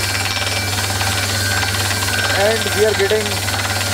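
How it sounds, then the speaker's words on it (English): A drilling rig works at about 80 feet into the ground near Tso Moriri, its engine droning steadily with a low, constant rumble and vibration while someone talks briefly over it near the end. "80 feet of drilling almost completed."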